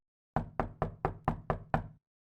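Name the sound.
knock on a door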